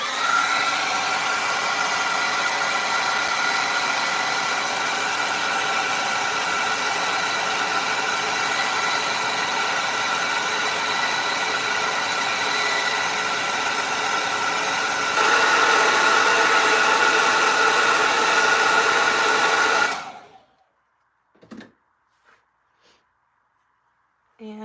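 A hair dryer blows on an acrylic painting, a steady loud whirring hum for about twenty seconds that shifts pitch slightly before cutting off, followed by a few faint taps.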